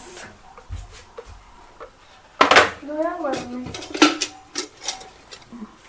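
Bowls, spoons and glasses clink and clatter as kitchen dishes are put away one by one, sharp close knocks of ceramic, metal and glass, with a person talking over parts of it.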